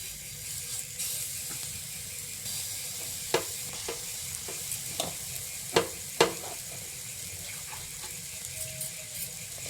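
Palm fritters, taler bora, sizzling in an oil-brushed frying pan, a soft steady fry broken by several sharp clicks and taps of utensils against the pan.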